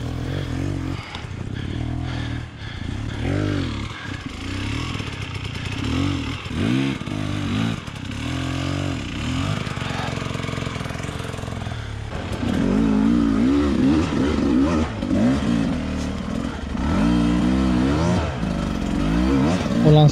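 An enduro motorcycle claws up a stone quarry climb in the mountains, its engine revving hard in repeated surges and bursts with rising and falling pitch, close and loud, with clattering and scraping from rocks and a voice talking.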